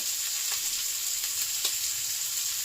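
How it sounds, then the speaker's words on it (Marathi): Very fresh fish frying in a pan, a steady dense sizzle and crackle, close and loud throughout, with faint occasional spits and no voices. "हे आतां हांव फ्राय करूं लागला दोन दवरले"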